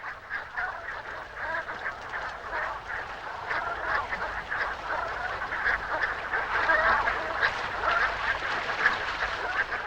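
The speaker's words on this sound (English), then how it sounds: "In October, thousands of waterfowl, such as these brant geese, stop over at sheltered coastal areas of southern Alaska" Brant geese call in a dense, continuous flock chorus of overlapping honks and quacks at a sheltered southern Alaska coastal stopover, steady and moderately distant.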